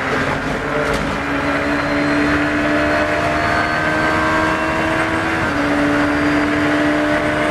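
A car accelerating hard at full power on the Silverstone F1 circuit, a loud sustained engine drone heard from inside the cabin, its pitch climbing steadily, then dropping briefly with a gear change before climbing again.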